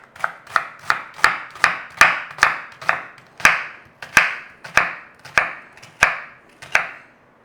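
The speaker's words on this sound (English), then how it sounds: "dice up the tomatoes" A knife dices tomatoes on a chopping board in a home kitchen, about a dozen crisp, close chops landing in a steady, unhurried rhythm with short gaps between them and no talking.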